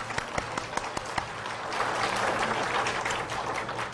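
Church congregation giving applause in praise during a Korean sermon, beginning with a few scattered claps and swelling into full, sustained clapping that fills the room.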